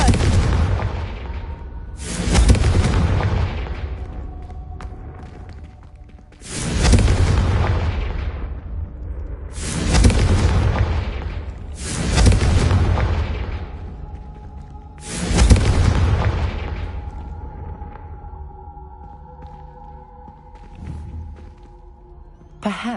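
Repeated booming blasts from the Confringo blasting curse in the video game Hogwarts Legacy, five or six loud explosions spaced a few seconds apart, each with a sharp broadband burst and a decaying rumble, over a steady low background.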